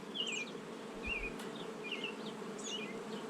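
Honey bees buzz around an open hive during an inspection, a faint, continuous drone with several louder individual bees zipping past close by, no voices heard.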